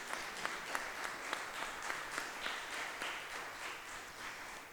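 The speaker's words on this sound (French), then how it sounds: "On peut l'applaudir également pour son travail." An audience at a francophone weather enthusiasts' association final claps after a presentation, steady, moderately distant applause from a modest crowd with a few sharper individual claps standing out.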